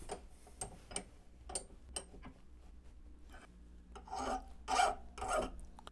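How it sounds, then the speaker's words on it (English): Screws being filed down by hand for a Monoprice Mini 3D printer fan mod, soft intermittent rasping strokes close by, building to a few louder, longer scrapes near the end, no talk. "Let's file them down."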